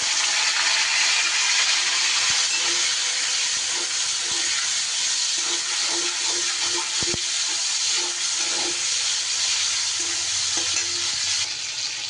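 Chopped tomato drops into hot oil in a kadai with tempering spices for a vegetarian potato and pointed gourd curry, raising a loud, steady sizzle and hiss with light stirring scrapes, no voices.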